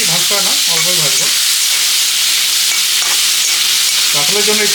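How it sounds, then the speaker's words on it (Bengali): Shrimp sizzle in mustard oil with a continuous close frying hiss, while a few short tonal sounds break in over it near the start and end. "একটা বেশি ভাজতে হয় না, অল্পই ভাজবো।"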